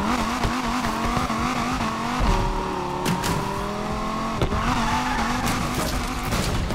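In the racing game NFS Unbound, a drifting car's engine revs loudly as its tires squeal in long, wavering screeches, rising and falling while the motor drones continuously up close.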